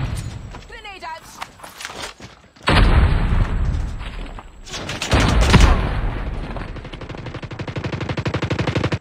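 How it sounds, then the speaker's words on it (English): Call of Duty Mobile multiplayer combat with a sudden loud grenade blast, followed by heavy machine gun fire and another big boom, with voiced callouts spoken over the battle. "Grenade out!"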